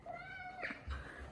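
A house cat meows indoors, with a short, moderately faint call repeated a couple of times over a low background hum.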